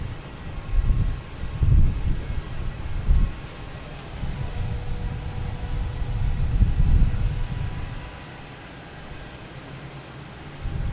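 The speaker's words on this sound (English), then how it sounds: "we also have a big one coming in here. British Airways from Heathrow." A British Airways 787 arriving from Heathrow at Boston Logan, a low rumbling jet drone that swells and fades in gusty pulses, partly buffeted by wind, fairly distant and with no talk.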